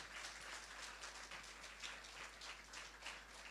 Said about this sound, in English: So I like all of you to rise and clap for yourselves